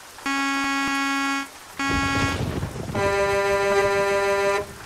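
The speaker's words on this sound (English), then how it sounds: "we are going to show you the honking." Peterbilt semi truck air horn, white and black, blasted in three loud close honks: a short first blast, a rougher second, then a longer sustained third with a slightly lower pitch.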